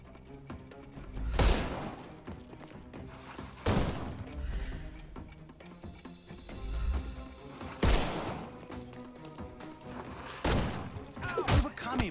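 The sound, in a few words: gunfire from a Sherlock Holmes video game combat scene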